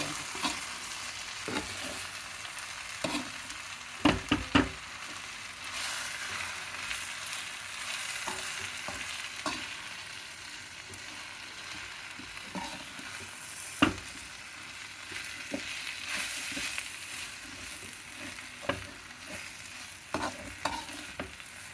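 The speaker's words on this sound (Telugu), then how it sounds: "ఇది గోధుమ రవ్వ కూడా ఈ తాళింపులతో పాటు వేయించుకోవాలన్నమాట" Wheat rava being stirred and roasted with tempering in a pan for upma, a soft steady sizzle with scattered scraping spoon strokes against the pan, a few louder clinks, no talking.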